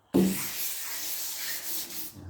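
Wet rubbing down primer filler on a VW Beetle trailer body, a steady close abrasive scrubbing that starts abruptly and continues in long even strokes with slight swells, with no talking.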